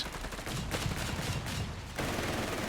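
Flak gun and machine gun fire in Company of Heroes 3, a dense, loud, continuous rattle of overlapping bursts with a brief drop near the end before the barrage resumes.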